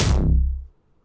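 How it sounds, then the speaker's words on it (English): A single heavy, bit-crushed Serum synth kick with a gritty, crunchy bass tail that drops off quickly and cuts out into silence. "I found this kick in the Serum Bank, which I was not expecting, and it's a bass."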